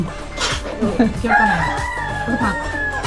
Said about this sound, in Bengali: আর মুরগির ডাক শোনা যাচ্ছে